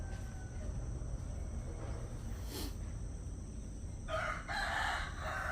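Hungry rooster named Fluffy crowing on a farm, one brief crow rising out of steady outdoor background noise near the end, fairly close and loud, with no talking.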